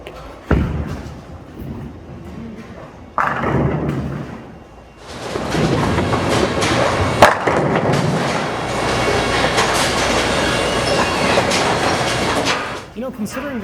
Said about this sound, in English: that ball came back hard enough to go through the pins and carry that strike